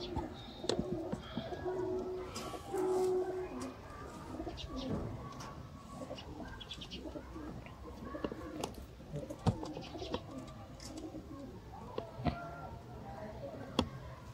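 Rampuri pigeons coo repeatedly at close range, soft rolling calls mixed with occasional chirps, wing flutters and sharp ticks in a busy loft, with faint voices in the background.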